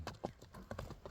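Horse hooves clip-clop at a walk in an irregular rhythm of close, crisp knocks, several strikes in quick succession with no voices.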